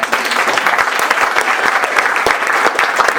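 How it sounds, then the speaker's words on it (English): An audience at a comedy club night applauds the comedians with loud, dense, steady clapping from a crowd. "Let's have a round of applause for all of our comics here tonight."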